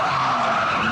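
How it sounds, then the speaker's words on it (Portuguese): Car tires skid and squeal as a car spins through a stunt maneuver at an exhibition, one loud, sustained screech lasting under a second. "É muito emocionante."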